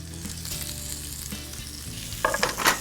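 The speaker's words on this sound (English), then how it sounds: "And they'll go seasoned side down in the pan." Seasoned tuna searing seasoned side down in a hot pan with rib rub, a steady close sizzle and crackle throughout, with a few louder spits toward the end.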